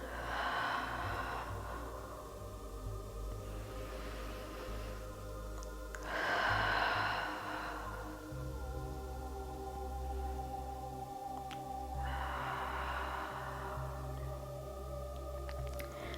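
Slow, deep breaths during a Pilates exercise, with long airy inhales and exhales repeating about every six seconds, close and fairly loud over a low background drone, and no speech.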